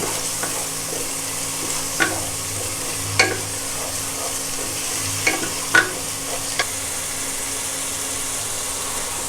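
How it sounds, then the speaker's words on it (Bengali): Banana flower curry with ground onion paste sizzles steadily in a pan, broken by a few sharp scrapes and knocks of a spoon stirring it, close and alone without voices. "গুঁড়া মশলা দেওয়ার আগে আমি ভালো করে নাড়িয়ে নেব।"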